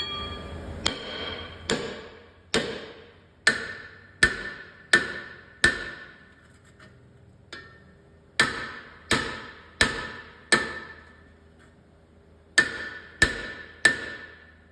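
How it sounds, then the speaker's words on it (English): A series of sharp, ringing metal strikes, a hammer hitting a stuck rear brake rotor on a Toyota Camry, in irregular bursts of two to four, loud and close with short pauses between groups. "go around and whack it a few times until it loosens up"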